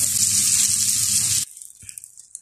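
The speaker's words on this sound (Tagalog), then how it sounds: "nagtunaw tayo ng butter" Butter sizzling in a pan, a loud steady hiss for about a second and a half that cuts off abruptly, leaving faint scattered crackles and small sounds.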